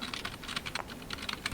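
Keys on a computer keyboard clatter in a quick, irregular run of light clicks, faint and slightly distant as if picked up by a nearby microphone.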